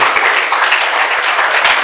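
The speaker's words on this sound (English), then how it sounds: "Let's give yourselves a round of applause" An awards-night audience breaks into continuous applause, a close, loud and even roar of many clapping hands with no voices over it.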